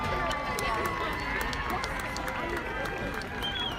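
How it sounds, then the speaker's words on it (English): Audience applause at a Lubbock Christian football game, a dense, steady wash of clapping and crowd noise with scattered sharp claps, loud and continuous throughout. "Ladies and gentlemen, a big round of applause for Samantha Lack."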